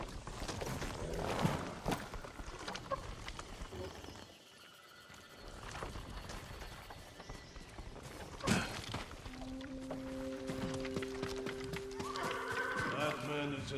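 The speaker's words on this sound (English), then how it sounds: "Follow those horses." Horses in the video game Ghost of Tsushima neighing and trotting, with clip-clop hooves and a whinny among ambient game sounds. Voices talk over them, and the overall level is fairly faint.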